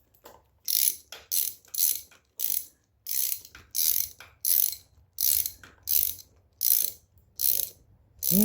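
A ratchet wrench works on the cam chain of a 2022 Kawasaki KX450 dirt bike, giving a steady series of about fourteen loud, close clicking strokes in an even rhythm, with no talk.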